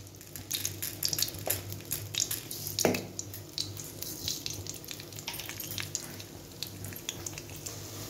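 Spices tempering in 1.5 spoons of hot oil in a kadai, a busy patter of small pops and crackles over a low sizzle with one louder splutter partway through, steady and fairly close.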